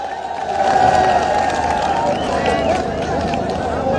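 A loud outdoor crowd at a farmers' mass sit-in claps and cheers in welcome for an official, steady close applause mixed with murmuring voices and an announcer talking over it.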